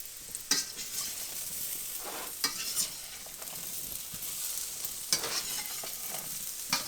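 Home fries frying in butter in a pan, a constant bright sizzle punctuated by several crisp scrapes and clacks as they are stirred and flipped, close up with no talking.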